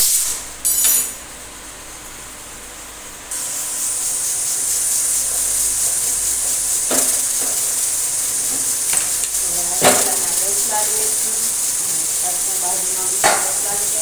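A thin rotla flatbread hits a hot tava griddle and breaks into a steady, loud sizzle and hiss that carries on, with a few soft scrapes and taps over it.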